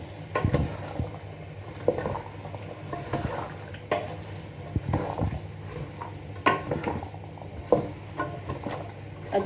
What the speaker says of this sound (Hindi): अब हम डालेंगे इसमें गाजरें को अच्छी तरह मिक्स करेंगे